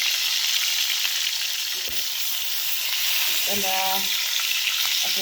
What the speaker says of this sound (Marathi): भाजीला तेल टाकायचं मिरच्या परतायच्या ह्या परतून घ्यायला लागत असेल ढोबळी मिरच